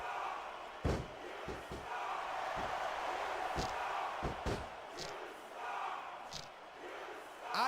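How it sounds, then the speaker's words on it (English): Crowd noise from a WWE wrestling video game arena, a broad steady roar of cheering fans with scattered sharp slams and thuds breaking through, continuous and fairly loud throughout. "I can't remember the last time I seen a crowd so pumped up"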